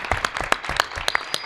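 Applause at a Christian church worship session, a short burst of scattered hand claps from a small group, irregular and fairly close, lasting just over a second.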